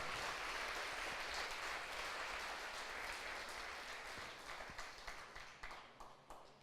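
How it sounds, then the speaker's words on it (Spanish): Church congregation applauding during a Lord's Supper service, sustained clapping that thins into sparse, separate claps toward the end, heard at a modest distance. "Sí, dele un aplauso al Señor."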